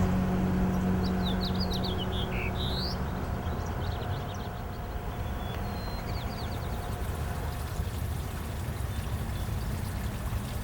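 Birds chirp faintly and intermittently along a creek over a constant rushing wash of flowing water or distant noise, with a few short tweets early on.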